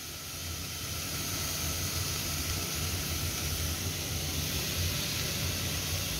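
Finely chopped spinach sautéing with salt in a pan gives a steady, even hiss and soft sizzle, continuous and fairly quiet, with no voices.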